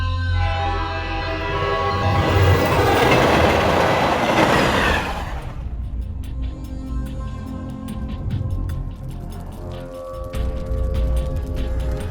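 Train rolling along rails, with a loud, close rumbling roar for about five seconds that then drops to a steadier, quieter clatter and hum of wheels on track, no talking.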